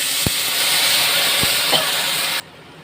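A splash of water hits salt, turmeric and cumin powder in a hot pan for a Bengali fish curry with bottle gourd and potato, giving a loud, even steam hiss that cuts off sharply after about two seconds.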